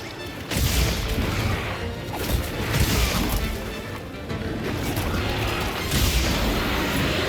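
A loud explosion in the video game Monster Hunter Wilds, a dense crashing boom layered over continuous combat noise, with a few heavy impacts during a monster hunt.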